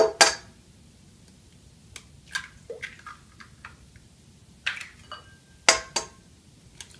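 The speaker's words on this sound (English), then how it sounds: "I'm going to crack my 4 eggs into the mixer" Four eggs are cracked into a stand mixer bowl in the kitchen, giving a series of sharp, close taps and clicks spaced over several seconds, with small shell and glass knocks between them in a quiet room.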